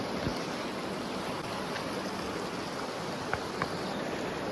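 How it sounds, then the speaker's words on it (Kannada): A river in flood after heavy rain rushes at full force, making a steady, dense roar that fills the scene with no voices. "ನದಿಯ ರಭಸ ನೋಡ್ಬೋದು"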